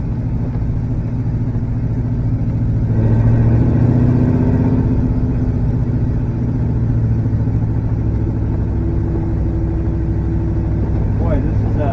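A car engine runs steadily after the clutch is popped, a loud low mechanical drone that swells briefly near the start, with people talking over it.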